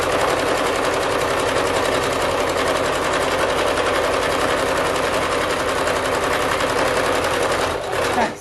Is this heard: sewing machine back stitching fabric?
yes